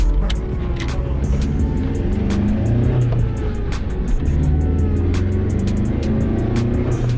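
A VAZ 2110 engine pulls hard as the car accelerates on the road, a steady, loud, close drone with rising low rumble throughout and no voices over it.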